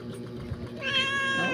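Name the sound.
cat meowing on the table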